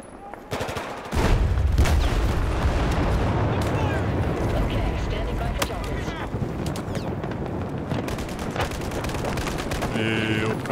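Dense battlefield gunfire and explosions from Battlefield 4 in Baku, loud and continuous, with a heavy blast early on and sustained shots and rumble throughout.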